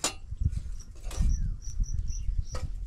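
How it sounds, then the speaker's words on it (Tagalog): Crickets chirping in a very quiet rural outdoor setting, a few faint high repeated chirps over low rustling and handling noise. "Huni lang ng kuliglig."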